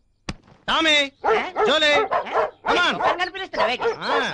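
Dogs bark and yelp loudly up close in quick, overlapping bursts, with whiny rising and falling cries filling nearly every moment.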